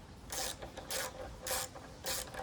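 Ratchet with a 12 mm socket loosening a brake caliper bolt on a Kawasaki Ninja 300, four evenly spaced rasping bursts of ratcheting close up, with no talk.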